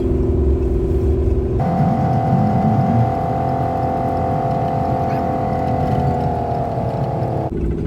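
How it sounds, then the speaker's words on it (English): An empty car hauler truck with its Jake engine brake engaged while rolling into a weigh station north of San Jose gives a loud, sustained droning engine roar close by, steady for several seconds before cutting off. "I hit the Jake brakes."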